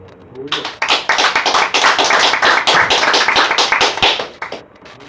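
Church congregation clapping during a worship service, a dense burst of hand claps lasting several seconds that rises quickly and fades out at the end.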